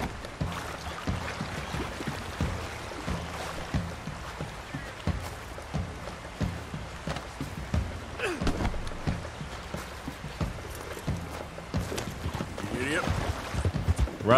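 Horse hooves clip-clop in a rapid, steady gallop in Red Dead Redemption II on PS5, a continuous close rhythm under occasional talking with game sounds mixed in.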